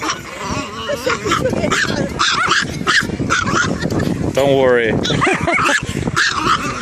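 A dog barks and yips in short bursts close by in Shanghai Century Park, with a person talking over it throughout.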